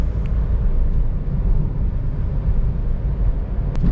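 Inside a Honda Brio RS Blacktop with an automatic gearbox while driving, the engine gives a steady, moderately loud drone blended with road rumble, unbroken and with no talking.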